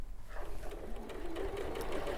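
A sewing machine runs a short stitch length across linen, giving a quiet, steady mechanical whir with a rapid stitching patter and no talking.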